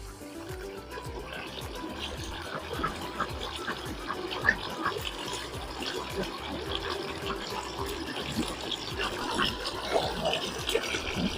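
Water pouring like a small waterfall into a basin, a steady, close splashing and trickling stream that runs unbroken throughout.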